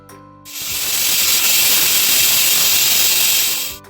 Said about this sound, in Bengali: প্রেশার কুকারের ঢাকনা বন্ধ করে সিটি দিতে হবে দুটো